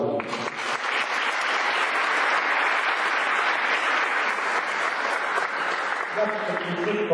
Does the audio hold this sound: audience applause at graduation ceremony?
yes